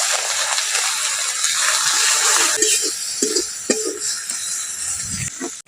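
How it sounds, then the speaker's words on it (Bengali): Frying spice paste of ginger, garlic, green chilli and turmeric hisses loudly as a little water is poured in, then the sizzle eases into softer bubbling broken by several scraping stirs of the pan. "মশলাটা ভাজতে ভাজতে সামান্য একটু জল দিয়ে দিচ্ছি"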